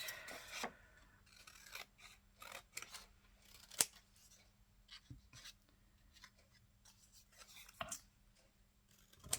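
Scissors snip through a card at a crafting table, giving a run of quiet, irregular cuts and rustles, with a few sharper clicks of the blades closing.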